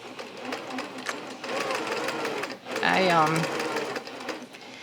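A sewing machine with monofilament thread stitches slowly along an appliqué edge, a steady close whir with rapid needle ticking, while someone talks over it.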